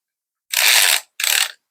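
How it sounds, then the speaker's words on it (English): A collated screw strip feeds into an Einhell screw gun attachment, making two short, close ratcheting rasps in quiet surroundings, the second slightly briefer. "you feed your screws"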